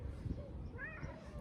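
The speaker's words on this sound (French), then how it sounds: "Il y a un petit chat." A small cat gives a short, rising meow close by over steady outdoor background noise.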